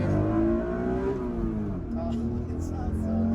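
A mid-engine Acura NSX NA1 revs high toward the top of its range, a loud sustained engine tone with rising and shifting harmonics, close by, with voices talking over it.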